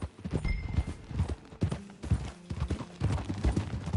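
Steady clip-clop of a ridden horse's hooves in Red Dead Redemption 2, a loud, close, rhythmic trotting beat that runs the whole way through.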